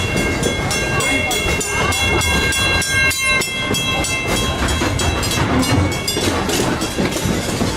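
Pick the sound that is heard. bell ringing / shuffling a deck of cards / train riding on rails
train riding on rails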